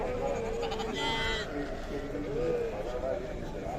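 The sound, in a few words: sheep bleating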